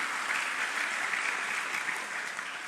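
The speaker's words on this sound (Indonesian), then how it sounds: "Kasih tepuk tangan yang meriah buat Tuhan Yesus." A church congregation at GBI Lippo Cikarang gives lively applause during a sermon, a steady, even hiss of many hands clapping together, moderately distant and unbroken throughout.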